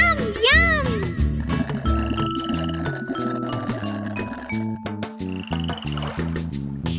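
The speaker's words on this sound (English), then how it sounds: "Two little speckled frogs sat on a speckled log" Cartoonish frog croaks ring out in a bright children's nursery song about speckled frogs on a log, repeated ribbits mixed with upbeat music and sung melody.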